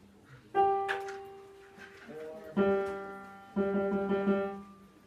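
Clarinets sound a low sustained concert G three times, each entry swelling then fading, with short gaps of quiet between the held tones.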